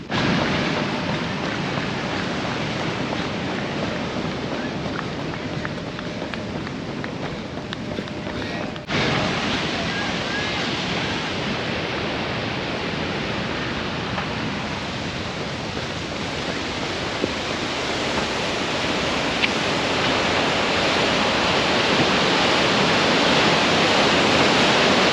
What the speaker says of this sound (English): So about to go by the waterfall right now.